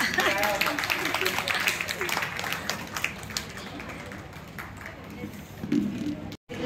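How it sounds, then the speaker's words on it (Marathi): Applause from the audience at a Women's Day felicitation ceremony organized by a Kshatriya Rajput community organization in Kalyan: a dense, crackling patter of clapping that runs steadily throughout, with voices talking over it. "टाळ्या टाळ्या टाळ्या."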